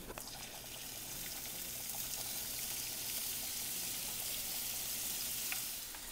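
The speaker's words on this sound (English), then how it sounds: "Alright, the meat's starting to cook up." Chopped meat frying in a pan, a steady close sizzle with light crackles and occasional scraping as it is broken up, running alone without talk.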